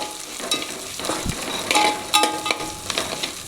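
A slit green chili frying in hot oil in a home kitchen pan, with a soft continuous sizzle broken by several scraping stirring strokes and light clinks, close and fairly quiet, with no voices.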